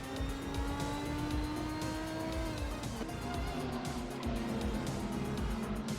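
GT3 race cars roar through a racing video game, engines whining and shifting in pitch, with tire squeal and skidding as several cars battle closely for the lead.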